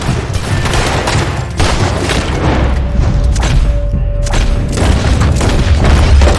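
Gunfire in the video game Red Dead Redemption 2: loud booming shots and bursts in rapid succession throughout, dense and close, with no speech over them.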